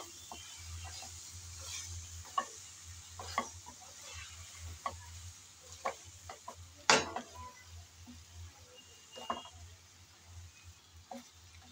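Okra with chopped coriander is stirred in a pan, giving scattered scrapes and clinks of a spoon against metal over a low background sizzle, with one sharp clatter partway through.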